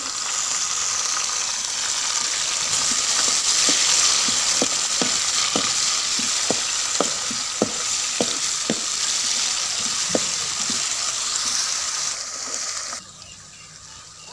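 Onions, tomatoes, green chilli and garlic frying in a pan, a steady loud sizzle with a run of soft taps from stirring, ending in a sudden drop in level near the close.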